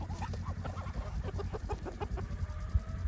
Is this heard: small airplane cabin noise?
no